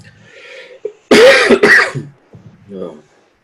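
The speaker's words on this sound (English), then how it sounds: "I've had this cough for like 2 weeks now" A close, harsh lingering cough followed by throat clearing, a couple of rough bursts with faint voice sounds around them.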